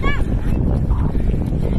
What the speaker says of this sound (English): It's pretty breezy.